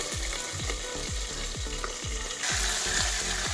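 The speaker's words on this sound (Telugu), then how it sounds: "ఉల్లిపాయలు పచ్చిమిరపకాయలు మునక్కాయలు అలాగే కరివేపాకు ఇవన్నీ వేసి ఒకసారి ఫ్రై చేసుకుందాం" Onions, green chillies, drumstick pieces and curry leaves fry in a pan for sambar, a bright constant sizzle with a quick regular rhythm of spatula strokes, close up and alone.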